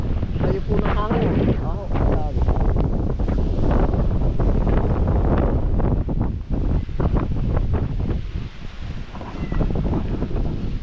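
Strong typhoon wind gusting across a farm field during Typhoon Uwan, a loud continuous roaring rush buffeting the microphone throughout, with a person talking beneath it.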